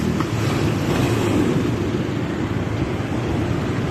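Rough sea surf roaring steadily, a loud continuous wash of waves with wind buffeting the microphone.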